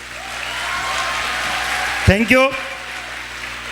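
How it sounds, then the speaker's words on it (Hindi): Steady audience applause at a stage event fills the space, with a brief spoken thanks cutting through near the end. "तालियां एक बार फिर से।"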